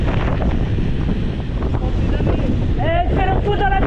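Loud, continuous wind buffeting the microphone of a cyclist descending into a headwind during a road cycling sportive, a steady roar throughout with a brief voice-like tonal sound near the end.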